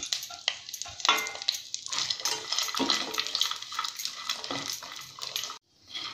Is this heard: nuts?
yes